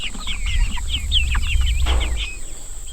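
A flock of meat chickens inside a chicken tractor in an orchard chirps and clucks steadily, the calls close and overlapping above a constant background hum, with no one speaking.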